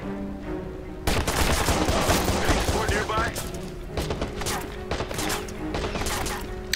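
Sustained gunfire in the Watch Dogs video game, a loud continuous fusillade of rapid shots lasting several seconds, easing slightly toward the end, with a few sharp reports standing out near the close.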